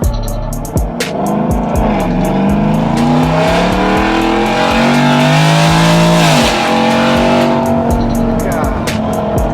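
A Ford F-150 with a 5.0 Coyote V8, Corsa exhaust and long-tube headers revs loudly and repeatedly up close, rising and falling through sharp throttle blips with a sustained high-rpm pull in the middle.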